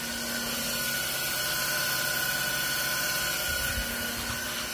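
A Haas TM1 milling machine spindle runs at 2,000 RPM with a steady, whiny tonal hum over constant mechanical noise, close and unbroken throughout.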